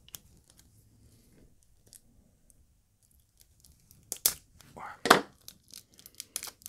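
Champagne package wrapped tight as Fort Knox being unpacked: after a quiet stretch, loud close tearing and crinkling bursts of paper or plastic, with one sharp rip standing out, then scattered rustles.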